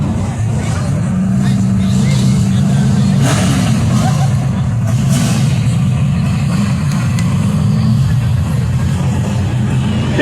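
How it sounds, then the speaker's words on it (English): Race car engines at Agassiz Raceway fire up and idle with a loud, rough, continuous low rumble, swelling with occasional revs, heard close alongside crowd noise and a voice over the speakers. "Gentlemen, start your engine!"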